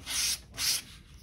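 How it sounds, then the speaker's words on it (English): Craft sticks rubbed with a foam sanding pad, two loud close sanding strokes of hissing friction, each about a third of a second, followed by a quieter tail. "Sand around all the edges till they're smooth."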